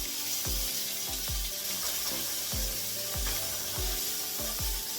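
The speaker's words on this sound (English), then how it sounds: "I'm going to be rinsing this mixed vegetable off" Running tap water splashes steadily over vegetables, with repeated hollow knocks and clatters as they are moved and rubbed under the stream.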